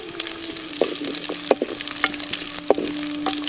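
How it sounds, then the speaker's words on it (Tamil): Cashews, cardamom and raisins frying in hot ghee, a steady close sizzle broken by repeated spoon scrapes and stirring clinks against the pan. "அடுத்து திராட்சையும் சேர்த்து நல்லா வறுக்க ஆரம்பிச்சிடலாம்."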